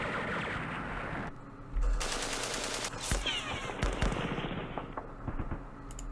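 Gunfire aimed at a mortar position in the wargame Campaign Series Vietnam, Battle of Hue: loud bursts of rapid automatic fire with sharp cracks, a whistling sweep and scattered explosions, continuous and close.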